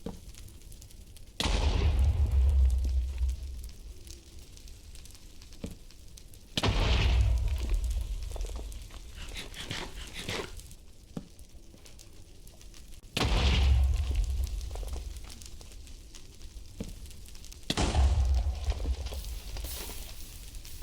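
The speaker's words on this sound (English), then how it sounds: "I'm still gonna be blasting these tunnels." Four heavy explosions from TNT blasting tunnels in Minecraft, each a deep booming burst with a rumbling tail, spaced several seconds apart with quieter game ambience between.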